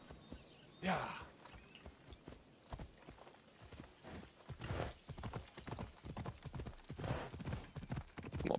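A horse's hooves clip-clop steadily in Assassin's Creed Odyssey, a close, regular rhythm of hoof strikes carrying on throughout, with faint background ambience.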